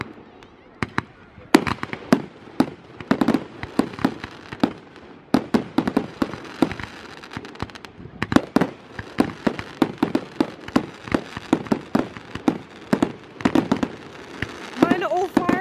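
A fireworks display at Mangonui in 2016 bursts in dense, irregular cracks and booms that run steadily for the whole stretch, some near and loud, with voices faintly present under the barrage.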